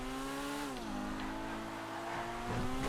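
A Weevil car engine in GTA 5, revving steadily, with the pitch dipping then holding. The loud, continuous engine tone fills the short stretch, with no speech.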